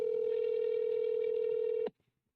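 A steady telephone ring tone holds loud and unbroken for nearly two seconds, then cuts off abruptly into near silence as the unanswered call goes through to voicemail.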